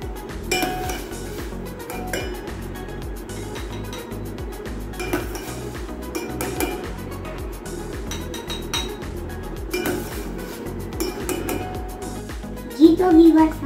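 Boiled carrots are dished out in a home kitchen with scattered light clinks of dishes and utensils over a steady background hum, ending in a brief louder clatter; faint voices can be heard in places.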